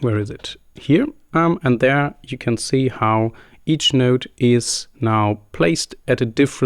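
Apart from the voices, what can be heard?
No everyday noise stands out behind the speech.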